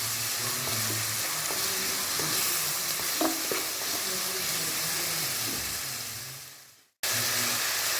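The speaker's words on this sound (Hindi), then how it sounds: "और इन सबको हम अच्छे से भून लेंगे।" Chicken fried rice with capsicum, vinegar, chili sauce and soy sauce is stir-fried in a hot pan, with loud continuous sizzling and hissing and scraping of the spatula, fading out abruptly before a short burst resumes.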